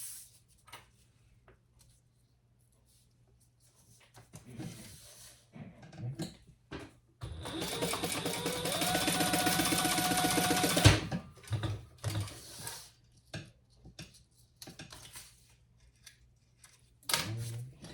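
A sewing machine stitching a trifold men's wallet: scattered mechanical clicks and handling first, then a steady, loud several-second run of rapid stitching, followed by more intermittent clicks and short bursts.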